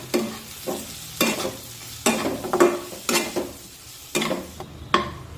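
Spices and homemade red chilli powder sauté in hot oil while a spoon stirs in regular strokes, each scrape rising above a constant close sizzle, about one stroke per half second, with no voices.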